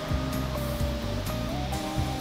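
The Voglajna river in Slovenia rushes along near Opoka, where the stream becomes a river and a competition course runs. A steady, dense wash of flowing water fills the whole stretch, loud and close, with no talk.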